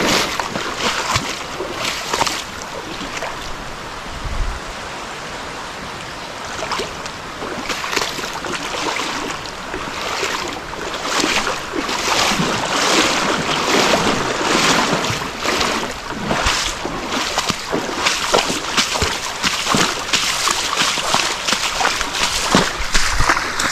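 Legs wade through a knee-deep stream on the Appalachian Trail, with continuous sloshing and splashing water close by, rising and falling with each step, and no talk.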